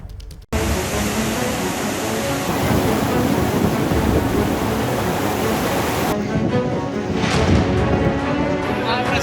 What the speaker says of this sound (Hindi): झालावाड़ में बाढ़ के हालात बन गए हैं और कई इलाके पानी में डूब गए हैं